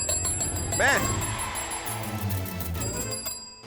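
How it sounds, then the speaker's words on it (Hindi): A bell rings briefly with a bright trilling tone, over a busy background of music and voices. "मैं बजा रहा था घंटी, तो चेक कर रहा था कि बज भी रही है या नहीं"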